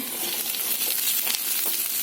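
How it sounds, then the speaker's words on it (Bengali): Potatoes sizzle and crackle in hot oil in a pan, a steady close frying hiss with small pops and no talk. "আলুটা ভাজা হয়ে গেছে"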